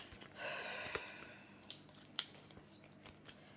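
Scissors snip through paper budget envelopes in a quiet room, giving a short rustle followed by several sharp, separate cuts spaced about a second apart.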